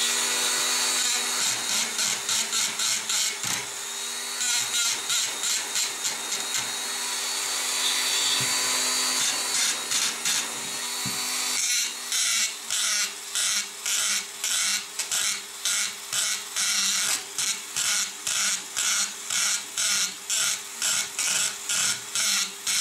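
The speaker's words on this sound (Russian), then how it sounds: "сейчас попробуем, как работает этот бор." A rotary burr bit grinds into dried, very hard Karelian birch wood. A continuous buzzing drone gives way to rapid, regular pulsing bursts as the tool bites repeatedly, loud and close with no talking.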